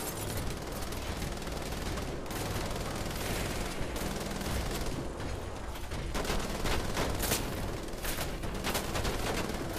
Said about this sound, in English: That doesn't really matter, just start firing.